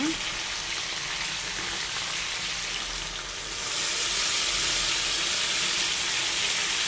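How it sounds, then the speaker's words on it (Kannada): Chicken curry fries in a pan as ground masala paste goes in, a steady broad sizzle and hiss that swells louder partway through, with no talking. "ನಾವು ಮೊದಲೇ ರುಬ್ಬಿಟ್ಕೊಂಡಿದ್ದು ಮಸಾಲೆನ ಇದಕ್ಕೆ ಹಾಕ್ಕೊಳ್ಳೋಣ"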